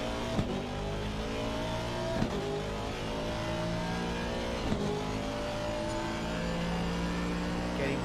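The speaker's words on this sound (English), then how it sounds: "Liking the action on the track as well. So that beautiful Aston Martin as well." Aston Martin race car in Assetto Corsa Competizione on the Donnington circuit, its engine droning steadily and loudly throughout, with pitch rising and falling through gear changes and a few sharp shifts.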